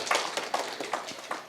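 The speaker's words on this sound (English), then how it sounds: "oh, you're clapping" Audience clapping at a public relations seminar marking a foundation day: a brief, moderately close patter of hand claps in a loose, even rhythm, with no voices over it.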